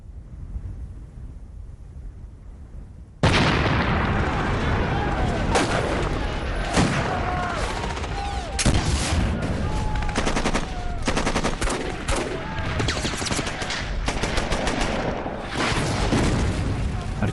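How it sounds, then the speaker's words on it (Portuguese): Artillery and mortar fire in World War II combat footage, a dense, continuous barrage of booms and blasts erupting after a quiet opening and rolling on without pause, loud and near. "Artilharia e morteiros estão explodindo à nossa volta."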